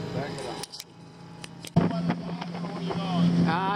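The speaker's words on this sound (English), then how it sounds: "I'm gonna have to move the boat a little bit here" Idling motorboat engine puttering nearby as the boat is repositioned on the water, with a steady low drone, brief clanks and rattles, and voices talking over it.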